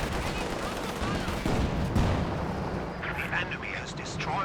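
Artillery barrage in the video game Company of Heroes 2: dense, rumbling booms and crackling blasts pile up continuously, with a voice talking over the battle noise.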